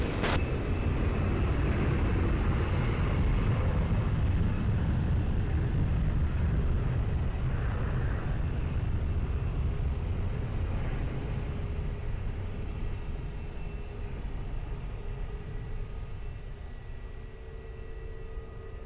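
A plane taking off at Lisbon Airport, a loud, steady broadband engine roar that fills the whole clip and eases off slightly toward the end.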